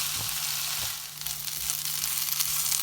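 Ivy gourd (kovakka) fries in a pan with a steady, fairly quiet sizzle, and a few soft knocks come as it is stirred.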